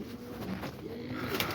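Racing pigeons kept by a hobbyist in Quetta, Pakistan coo softly nearby, low murmuring calls over a faint, steady background.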